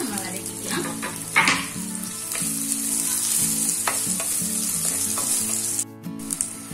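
Chopped onion sautés in a hot pan with a steady, close sizzle and a few brief stirring scrapes, while background music plays underneath and no one speaks.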